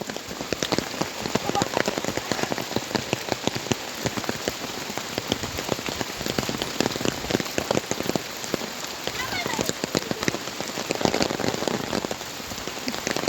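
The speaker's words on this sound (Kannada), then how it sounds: "ನೋಡಿ, ಮಳೆ ಬರ್ತಾ ಉಂಟು ಜೋರು." Heavy rain pours steadily over a flooded plantation, a dense, loud patter of drops on surfaces that continues without pause, with faint voices underneath.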